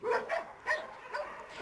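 Dogs bark and yip in bursts at an animal shelter licensed for 500 dogs, the calls echoing in a reverberant kennel space with no talk.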